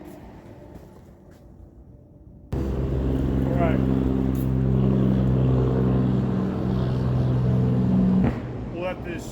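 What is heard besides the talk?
truck passing by with engine brake exhaust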